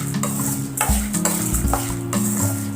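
Cumin seeds are stirred in a pan over a low flame, a spoon scraping and clinking against the metal in close repeated strokes over a gentle frying sizzle.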